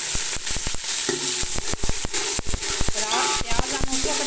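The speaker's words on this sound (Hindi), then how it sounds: "प्याज हम उसको तक फ्राई करेंगे जब तक ये गोल्डन ब्राउन ना हो जाए" Onions frying in hot oil with whole spices for chicken biryani, a steady close sizzle broken by sharp clatters of stirring, with a voice speaking over it at times.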